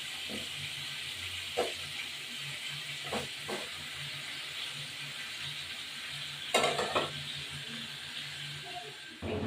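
Chicken pieces fry in a pan with a soft, constant sizzle and hiss, punctuated by a few clicks and knocks from handling, one louder clatter standing out partway through.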